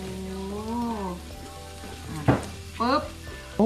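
Steady sizzling from pork frying on a Thai grill pan, with a couple of voices speaking briefly over the crackle.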